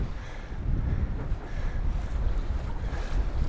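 Strong wind and waves while wing foiling on water in extreme cold weather: steady, heavy wind buffeting and rushing water churn continuously throughout, with no voices.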